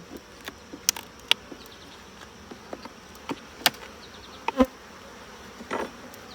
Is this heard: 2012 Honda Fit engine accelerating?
no